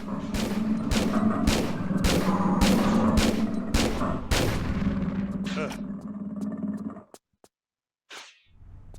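Video game gunfire from a Tomb Raider level editor custom level, a run of loud rapid booming shots over dense roaring noise that cuts out abruptly, followed by a short burst and quiet.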